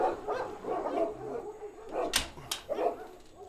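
A female Kangal breeding dog barks in short bursts, two sharp close barks standing out over a busier background of lower yips and whines.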